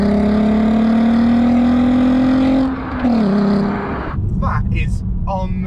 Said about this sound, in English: So this is the legendary VR6 engine, famously one of the most amazing sounding engines of all time.